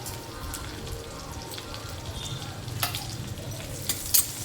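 Green chillies sizzle in a hot pan for wheat rava upma, giving a soft steady crackle close by with a few brief scrapes of stirring and no talking.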